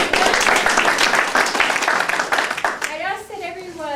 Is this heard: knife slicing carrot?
no